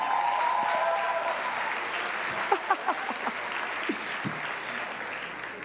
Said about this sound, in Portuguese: uma salva de palmas para o nosso japonês amado, querido